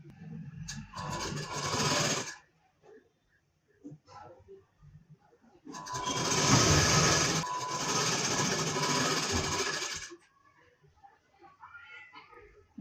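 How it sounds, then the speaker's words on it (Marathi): Sewing machine stitching the lining of a blouse, two loud, steady bursts of whirring, rattling stitching a few seconds apart with quieter handling noises in between. "सविस्तरपणे शिलाई करून घ्यायचं आहे"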